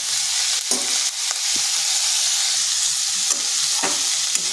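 Chopped onion stalks and a small tomato frying on a low flame, a constant bright sizzle with occasional scraping stirs, close and steady with no speech.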